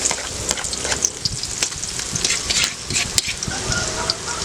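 Garlic sautés in hot oil for molo soup, a dense crackling sizzle with quick stirring scrapes close by, continuous throughout.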